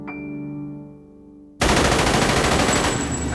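Video game gunfire from a PSW demo DVD bursts in after a sustained musical tone cuts off, a loud, dense, continuous spray of shots filling the rest of the moment.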